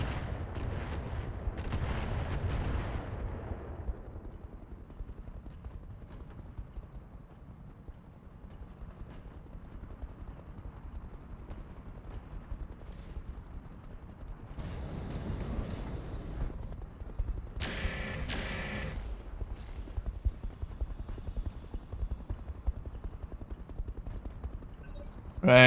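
Gunfire and direct-fire weapon shots in the mech combat game Roguetech, a burst of heavy firing at the start and more bursts later, over a continuous low rumbling background.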